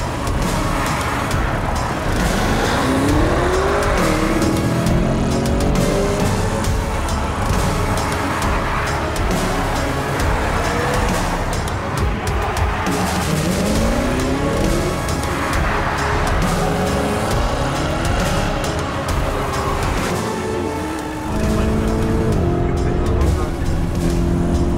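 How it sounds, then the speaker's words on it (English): A Lamborghini Urus accelerates hard on a test drive, its engine note rising through repeated sweeping gear pulls, loud and close from inside the cabin, with people talking over it. "today we're gonna be test driving a frickin' Lamborghini Urus"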